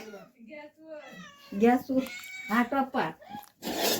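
Several close, drawn-out cat meows rise and fall one after another, ending in a harsher, noisier cry.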